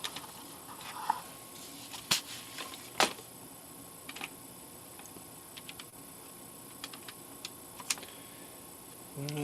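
Keys clack on a computer keyboard at a retro PC workbench, sparse irregular taps with a few louder strikes scattered over a quiet background hum.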